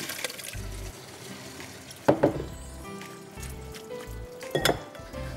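Washed apples sit draining in a sieve in a kitchen sink, water trickling and splashing steadily at close range, with a few sharp clinks and knocks of the sieve or fruit against the sink.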